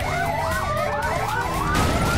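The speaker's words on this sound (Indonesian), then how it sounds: "polisi pun mengejar aku." Police car sirens from several cruisers chasing a car, rising and falling wails overlapping loudly and continuously throughout, close by.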